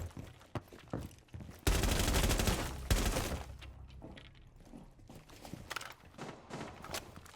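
Rainbow Six Siege combat with a dense burst of loud explosive blasts and gunfire around the middle as charges breach a wall, followed by scattered thuds and shots at a distance.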